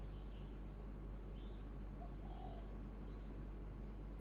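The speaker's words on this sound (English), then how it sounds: "you'd hear these beautiful bird songs" Faint outdoor birdsong, a few soft calls and coos scattered over a steady low background hum, with no talking.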